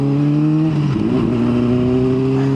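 Honda CBR600RR sport motorcycle engine heard while riding, a loud steady buzzing drone whose pitch dips briefly, then climbs again as the bike pulls on.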